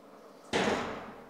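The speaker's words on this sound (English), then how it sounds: "Let's close the door." A door pulled shut in a workshop housing a 300-ton hydraulic press, landing as one sharp thud that trails off into a brief fading rumble against a quiet background.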